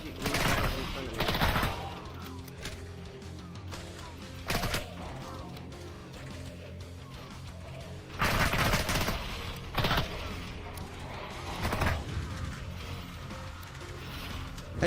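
Enemy gunfire in the IronStrike VR shooter, with repeated bursts of rapid shots, some loud and close, some fainter, and mechanical clatter between them.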